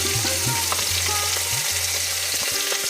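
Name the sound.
koi fish frying in oil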